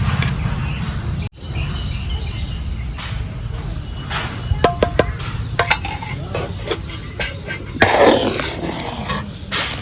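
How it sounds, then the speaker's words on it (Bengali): A cooking pot's lid is lifted off during fruit chutney preparation, with a few sharp metallic clinks and a louder clatter near the end over a low, steady kitchen background. "আমি এবার ঢাকনাটা খুলে দিচ্ছি"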